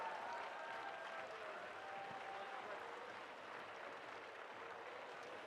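Audience at a youth national climbing championship lead finals applauding for the competitors, a steady wash of clapping heard from a distance, quiet and even throughout with faint cheers mixed in.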